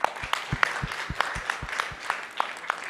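Conference attendees clap for panelists after a discussion on oceans law and policy. The applause is a crisp, fairly even patter of handclaps that runs steadily throughout, without cheering.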